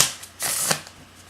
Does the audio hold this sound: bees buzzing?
no